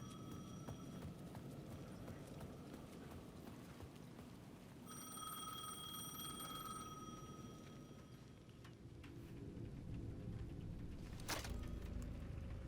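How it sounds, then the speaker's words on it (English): A payphone at the edge of a plaza rings in the video game Alan Wake 2, a repeated electronic bell over a low rhythmic ambient bed, moderately distant and faint. "The payphone at the edge of the plaza was ringing again."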